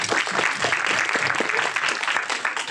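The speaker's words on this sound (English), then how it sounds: "You can applaud." Applause from an audience, dense and steady clapping that continues evenly throughout, close and fairly loud.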